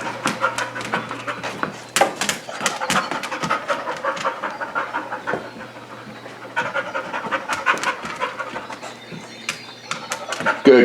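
Keta, a diabetic alert dog, pants rapidly and steadily right up close during scent training, a continuous breathy rhythm with faint bird calls in the background.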